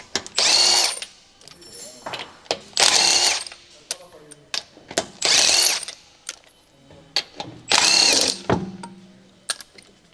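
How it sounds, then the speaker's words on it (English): Electric impact wrench with a 22mm deep socket taking rear wheel lug nuts off a Land Rover Discovery 4, four loud, close bursts of rapid hammering, each about a second long, with clinks and clatter between them. "Use the 22mm deep socket with the electric impact wrench. Remove the rear wheel lug nuts."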